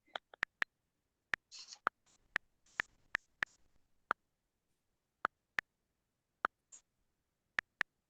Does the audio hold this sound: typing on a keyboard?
yes